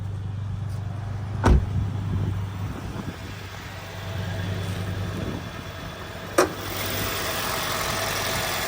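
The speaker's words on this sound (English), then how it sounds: "have a look underneath the bonnet while it is running" A 2023 Toyota Corolla SX Hybrid idles steadily with a low hum under the open bonnet, its AC compressor whirring along, with a couple of brief clicks.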